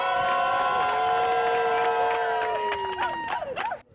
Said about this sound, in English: Yes, a big round of applause.